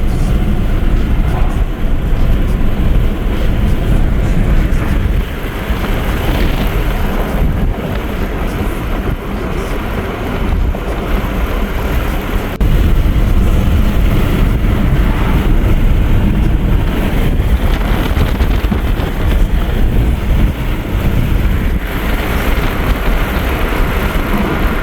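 Steady, loud road noise from a car driving along a highway in Ontario, a continuous low rumble with broadband tire and wind hiss that persists unbroken throughout, with no talking.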